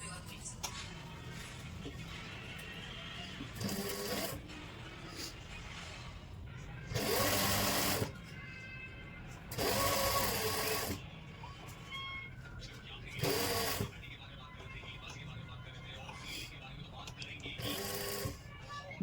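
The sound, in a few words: sewing machine stitching a suit pocket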